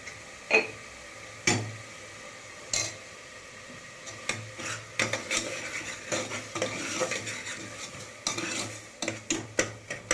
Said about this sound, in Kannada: ಟೊಮೊಟೊ ಫ್ರೈ ಆಗೋದಕ್ಕೆ ನಾನು ಸ್ವಲ್ಪ ಉಪ್ಪು ಹಾಕೊತೀನಿ